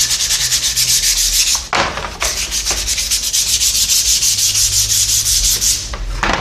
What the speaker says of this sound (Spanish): a lijarlo un poquito para que la pintura no rechace la pintura